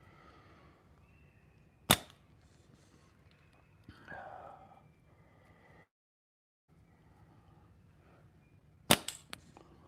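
Two sharp slingshot releases snap during casual plinking at a distance shooting practice session, spaced several seconds apart over quiet outdoor background with faint murmurs.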